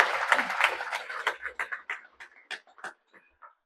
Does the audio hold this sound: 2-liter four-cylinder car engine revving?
no